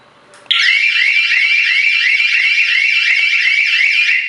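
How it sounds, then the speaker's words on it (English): An alarm in a bus, triggered by pulling a switch, sounds loud and continuous from a quick onset, a steady shrill warbling electronic tone that repeats in rapid pulses, close and alone. "If you are pulling the switch, that will give notification here, and that will start the alarm"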